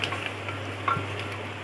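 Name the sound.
frying spices with turmeric and salt for egg biryani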